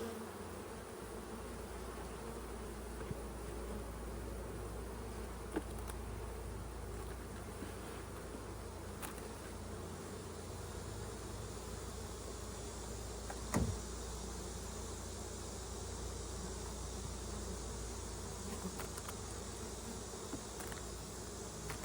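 Bees hum in a beehive as a continuous close drone, steady and fairly soft, with a few faint knocks.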